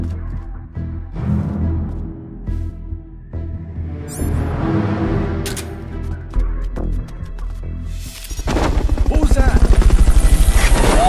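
A helicopter's rotor thumps loud and close in Metal Gear Solid: Peace Walker, building into steady chopping toward the end, with game sounds and scattered noises earlier.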